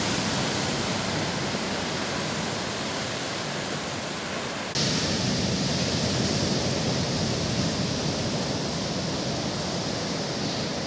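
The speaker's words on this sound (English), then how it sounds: "I can watch ocean waves break and recede for hours at a time" Ocean surf on a Mexican shore, a steady broadband wash of breaking and receding waves with no voices, swelling noticeably louder about halfway through and staying loud.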